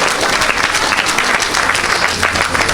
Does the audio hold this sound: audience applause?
yes